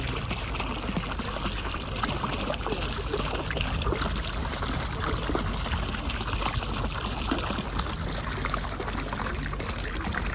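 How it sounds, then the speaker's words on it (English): Steady splashing and trickling water, a continuous broad wash of falling water close by with no pauses, from a fountain in a park. "This is just one of many fountains"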